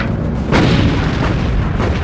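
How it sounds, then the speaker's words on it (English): Five-inch naval guns of the destroyer Laffey firing, a heavy, booming blast over a constant loud rumble, with a fainter second report shortly after. "Laffey's 5-inch guns quickly open fire."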